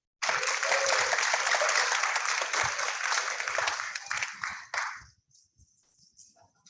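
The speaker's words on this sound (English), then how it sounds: "Just one more last round of applause for our candidates." Audience applause for the candidates at a Kern candidates' forum, a full and fairly close burst of clapping that runs for nearly five seconds before trailing off into a quiet room with scattered faint noises.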